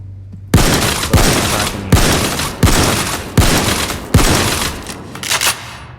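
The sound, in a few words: gunfire in video game Payday 2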